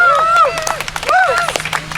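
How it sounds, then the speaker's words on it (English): Crowd at an outdoor clean-water picket in Richmond claps and whoops in a loose, energetic burst, with overlapping shouts and chatter running through the applause. "give yourselves a round of applause"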